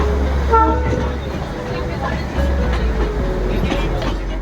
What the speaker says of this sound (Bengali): এবার আমাদের টয় ট্রেন ঢুকছে দার্জিলিং স্টেশনে